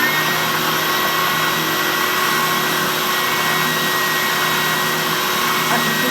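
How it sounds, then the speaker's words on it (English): Triton 450W oscillating spindle drum sander running at a steady, continuous hum with an even motor whir throughout, close and constant with no change in pitch. "I'll just demonstrate the drum sander."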